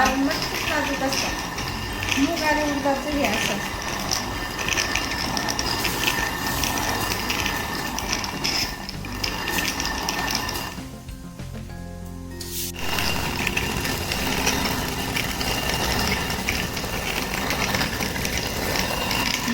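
A traditional stone hand mill (jaate) grinding urad dal, giving a steady rough grinding and rumbling rotation that runs almost without break, with a short quieter gap partway through and voices talking over it.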